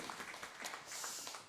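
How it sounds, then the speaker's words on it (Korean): Church congregation applauding during a worship service, a soft, distant wash of many hands clapping together for a brief moment, fairly faint. "함께 영광의 박수 올려드리도록 하겠습니다"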